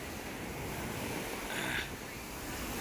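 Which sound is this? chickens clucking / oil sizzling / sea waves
sea waves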